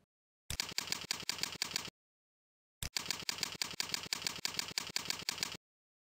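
Keys clatter on a computer keyboard in two quick bursts of rapid, evenly paced clicks, close and crisp, separated by a brief silent pause, with no voices.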